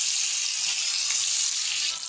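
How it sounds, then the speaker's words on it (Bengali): Koi fish and small tilapia fry in hot oil in a kadai, giving a loud, steady, continuous sizzle with no pauses. "এখন আমি মাছগুলো ভেজে নেব"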